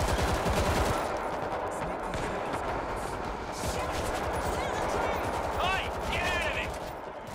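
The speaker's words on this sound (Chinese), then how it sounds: "有其他人在开枪吗？" Rapid automatic gunfire crackles in dense bursts in the zombie shooter World War Z, set in New York's subway, with a player talking over the shooting.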